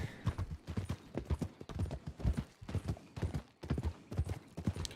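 Rapid, steady clip-clop of horse hooves on a hard surface in Red Dead Redemption 2, close and continuous, with a faint murmur of voices in the background.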